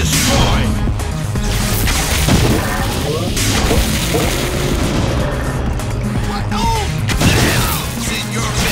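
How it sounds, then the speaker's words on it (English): A turret being destroyed in the Awesomenauts video game, a dense, loud burst of booms, crashes and rapid weapon fire layered with game effects for the whole stretch, and a synthetic announcer voice speaking partway through. "Your turret is destroyed."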